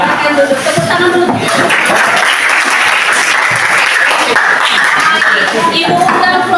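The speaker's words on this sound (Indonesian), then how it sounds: "Silakan duduk, tepuk tangan dulu." Loud classroom applause fills the room steadily throughout, with students clapping together and faint chuckles and voices mixed in.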